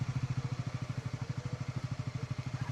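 Motorbikes idling close by after arriving to pick up travellers and luggage in Indonesia, a steady low putter of rapid, even engine pulses.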